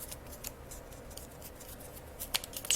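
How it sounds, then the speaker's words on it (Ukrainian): Scissors snip through a folded sheet of foamiran craft foam in a series of quick, quiet, close cuts, with louder clicks toward the end. "Я його складаю, складаю і ось так вирізаємо"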